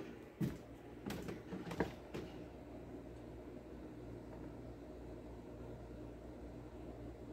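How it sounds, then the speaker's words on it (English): A quiet air conditioner runs with a low, steady hum and faint broadband hiss, while a few brief clicks and knocks sound near the start before the unit settles into an even drone. "That is a quiet air conditioner."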